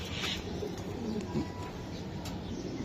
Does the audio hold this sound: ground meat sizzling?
no